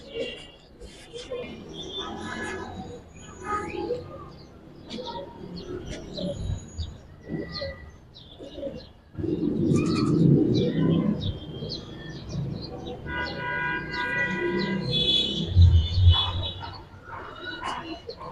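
Giribaz pigeons coo in a loft in repeated low, throaty bursts, with some chirps and a dog-like bark, while voices talk nearby and background noise swells in the second half.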